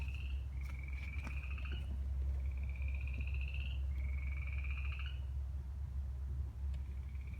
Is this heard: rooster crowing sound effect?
no